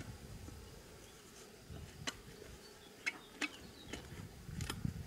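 Honey bees at a hive outdoors: a faint, steady buzzing drone with scattered sharp ticks and clicks over it, no voices.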